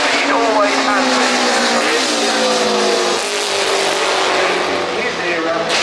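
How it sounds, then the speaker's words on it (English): A 500cc MV Agusta racing motorcycle screams up the Goodwood hill climb, its high-pitched engine note sweeping down through gear changes with throttle blips, loud and close throughout as a commentator talks over it. "His era, with the MV Augusta, with the 500, what a sound."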